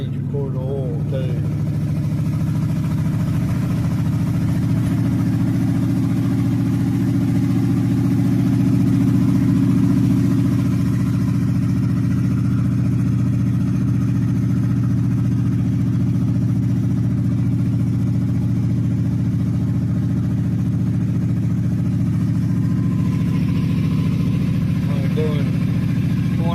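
A truck engine idles in a steady, low, continuous drone for the whole stretch. The sound is close and even, with faint background noise.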